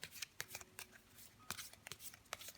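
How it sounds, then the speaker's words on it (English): Quiet riffling and snapping of a deck of playing cards being shuffled, several quick bursts, close and soft. "I'm going to shuffle the cards"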